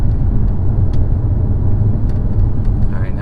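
Engine of a 2017 Maserati Quattroporte sedan pulling under acceleration, a loud steady low rumble from inside the cabin with a brief shift near the end, no talking over it.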